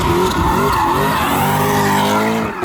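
A car drifting through a corner under throttle, tires skidding and squealing loudly and continuously alongside a strained engine for the whole stretch, with no talking.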